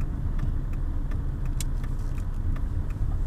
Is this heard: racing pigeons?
no